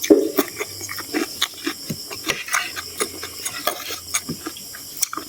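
Onion sautéing in a hot pan, a soft steady sizzle broken by repeated scraping stirs of a utensil, close and fairly quiet, with no talk.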